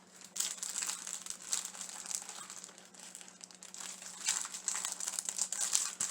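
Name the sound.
crinkling of alphabet sticker packaging being opened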